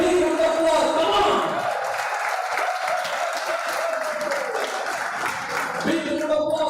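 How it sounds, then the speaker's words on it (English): Crowd applause at a cricket player auction for a 2026 local tournament, a steady dense wash of clapping with cheering throughout, close and loud, with voices mixed into the noise. "Big round of applause to Indian Warrior."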